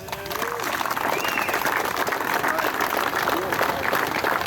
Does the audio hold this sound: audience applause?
yes